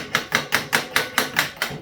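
Hammer tapping a front wheel bearing into a Suzuki DR200 motorcycle wheel: seven sharp, evenly spaced metallic knocks at a steady rhythm, close and moderately loud with no talk.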